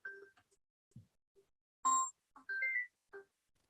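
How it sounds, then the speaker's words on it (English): A mobile phone rings in a lecture room with a short melodic ringtone of scattered electronic tones and beeps, moderately close and without speech. "today I forgot to silent my phone"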